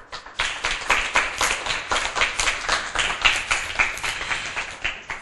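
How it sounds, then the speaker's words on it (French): A small audience claps for a child's book presentation on a French TV show, a dense, even patter of applause lasting several seconds with no talk over it. "On applaudit Elke."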